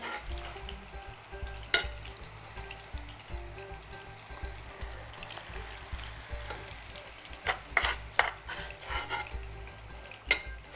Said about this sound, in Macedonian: И само ги фрлате во врелото масло.